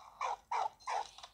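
Three short barks from a dog in the World War I game Valiant Hearts: The Great War, evenly spaced and moderately loud, followed by a fainter fourth yelp, with no talking.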